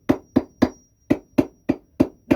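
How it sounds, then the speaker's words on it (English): A hammer pounds sinew against a rock in eight sharp, close strikes: a quick run of three, a short pause, then five more at a steady beat. "pound stuff between a hammer and a rock"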